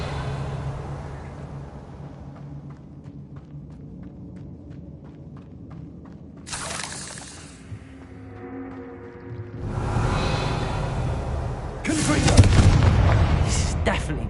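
An Incendio fire spell is cast in Hogwarts Legacy on PS5, with booming whooshes and rumbling bursts of flame after quieter game ambience, loud and close, with a voice heard briefly.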